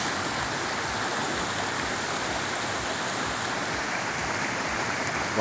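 Floodwater rushes down a flooded main street in the Caiubura neighbourhood of Bertioga during a flood, making a steady, loud broadband roar of flowing water that holds constant throughout with no voices.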